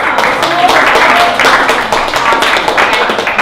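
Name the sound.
audience applause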